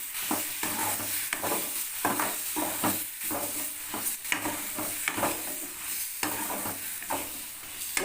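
Salted onions frying in a pan for a bottle gourd curry, with a loud, constant sizzle and a regular rhythm of spatula strokes scraping through them, close by and with no talk.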